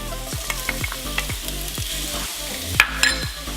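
Garlic and thin julienned ginger fry in oil in a pan, giving a steady close sizzle with regular stirring knocks and a couple of sharper scrapes near the end, no voices.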